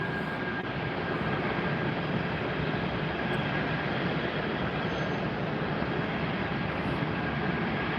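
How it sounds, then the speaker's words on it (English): Southwest airliner taking off down the runway at Tampa airport, a steady broadband engine roar held at even loudness throughout, heard from a distance with no talk. "we've got Southwest going up the runway right now"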